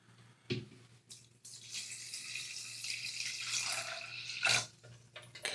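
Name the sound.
warm water poured into a magnetic pin tumbler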